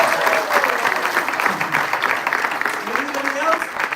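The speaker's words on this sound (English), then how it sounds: "Please applause for him." An audience at an evening celebration with a drama program applauds, a continuous crowd clapping with some voices and murmurs mixed in.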